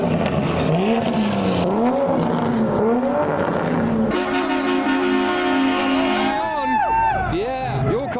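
A Liberty Walk Nissan GT-R leaving SEMA 2023 revs its engine loudly and close by, in repeated rising and falling surges, while crowd voices carry around it.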